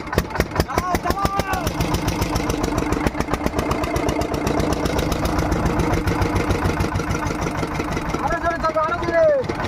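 A motorboat engine runs on a Sundarbans river during a fishing trip, a steady close rhythmic chugging throughout, with people talking over it.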